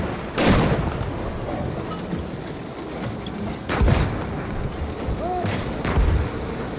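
Three heavy booming cannon blasts from an M1 Abrams tank in the Gunner HEAT PC video game, each a loud sharp report fading into rumble, spaced a few seconds apart over constant engine drone.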